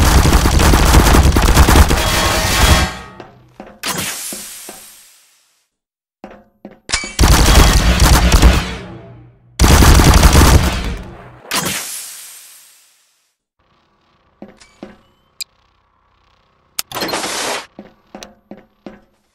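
Rapid automatic gunfire in Garry's Mod comes in long loud bursts of several seconds each, separated by silences, then a few scattered single shots and a short final burst.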